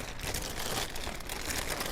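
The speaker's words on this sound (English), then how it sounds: "So they put everything in a plastic bag." A plastic bag from a minimally wrapped mail-order package, a Go Forth Goods Mini Hoffman, crinkles steadily and closely as it is handled, a dense rustle lasting about two seconds with no talking.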